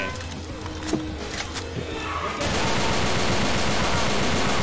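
Player's gun firing in Left 4 Dead 2: a few scattered shots at first, then a dense, sustained burst of rapid automatic fire, loud and close, with speech and game noise in the background.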